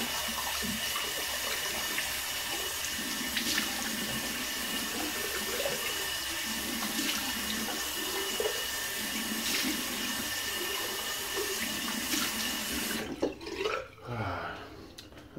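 Water runs steadily from a tap for several seconds, then stops, followed by a few brief splashes and drips.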